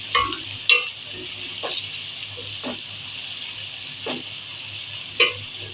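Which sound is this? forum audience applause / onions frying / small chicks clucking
onions frying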